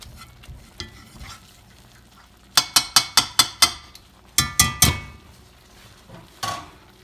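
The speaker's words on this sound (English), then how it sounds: "as I let these beans refry" Refried pinto beans cooking in a well-seasoned iron skillet, with a low background sizzle broken by a rapid run of sharp metallic knocks and scrapes from the spoon against the pan, then a few scattered taps.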